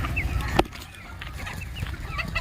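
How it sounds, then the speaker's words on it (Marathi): An Aseel breed rooster gives short clucking calls close by in a farmyard, set against a busy background of other fowl and ducks and outdoor rustling. "आमच्याकडे एक असील जातीचा एक कोंबडा आहे"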